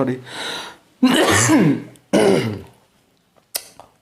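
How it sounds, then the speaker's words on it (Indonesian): Three harsh, explosive coughs in a row, close and loud, with short pauses between them, then a brief sharp throat sound at the end. "batuknya nggak bisa kompromi."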